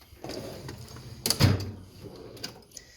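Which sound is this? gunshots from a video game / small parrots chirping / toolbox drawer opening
toolbox drawer opening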